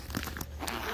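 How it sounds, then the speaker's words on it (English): A short zipper on a Caribee bugout bag rasps quickly up close, a brief scratchy pull of about a second with no talking. "A little zipper in here"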